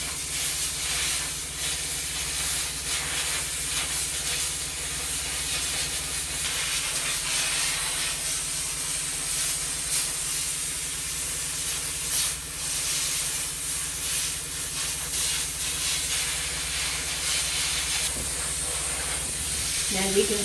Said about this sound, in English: And I'm going to steam some more.